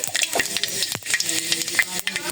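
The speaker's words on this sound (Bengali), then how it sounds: "এই যে তেলটা গরম হয়ে গেছে, এখন পাঁচফোড়ন দিয়ে দিলাম।" Panch phoron spices hitting hot oil in a home kitchen pan for a village-style vegetable chorchori, giving a steady close sizzle with a few stirring clatters.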